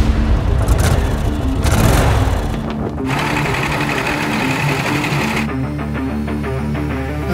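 Loud, continuous buzzing of go-kart engines revving and droning during a race, pitch shifting as they pass close, with no talking over them.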